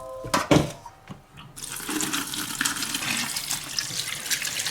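Running tap water pours steadily over boiled pig trotters being rinsed in a large basin to clear off scum and leftover hairs, a continuous close splashing after a few brief knocks at the start, with no talk.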